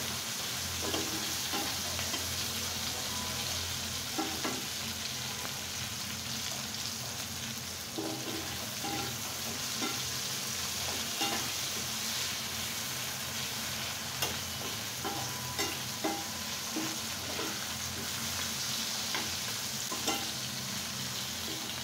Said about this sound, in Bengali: এখন আমি আলুগুলা 2 মিনিট ভেজে নিই।